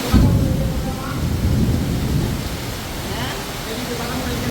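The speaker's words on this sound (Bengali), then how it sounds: "দেখ কত বৃষ্টি দেখ" Heavy rain pours down in a dense, constant roar, with low rumbles of thunder and faint voices underneath.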